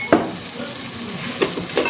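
Garlic and ginger paste frying in ghee on a low gas flame gives a soft sizzle, broken by a few sharp stirring scrapes from a utensil.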